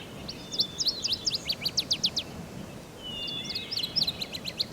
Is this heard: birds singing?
yes